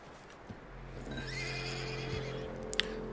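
Horse neighing in Red Dead Redemption II, a single drawn-out whinny with rising and falling pitch over a low steady game ambience, ending with a couple of brief clicks.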